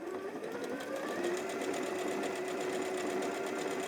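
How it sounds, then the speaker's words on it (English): A sewing machine runs steadily, stitching over the frayed edge of quilting fabric with a continuous close whirring hum that holds level throughout, with no talking. "And then as you start to sew,"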